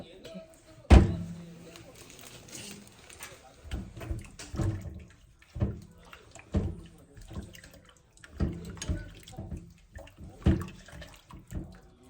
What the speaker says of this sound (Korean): 뜨거운 물을 부어서 살짝 데쳐서